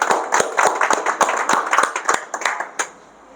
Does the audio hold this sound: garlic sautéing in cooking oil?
no